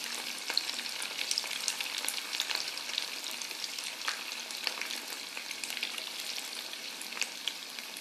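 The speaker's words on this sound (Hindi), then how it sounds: "इनको हमें रेड होने तक फ्राई करना है" Paneer pieces frying in a pan make a steady, bright sizzle with scattered pops and crackles, close up and continuous, with no voices.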